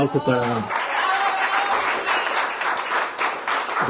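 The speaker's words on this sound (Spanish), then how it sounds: "Un aplauso para" A speaker's voice at an anniversary celebration gives way to a dense burst of audience applause that carries on steadily for several seconds.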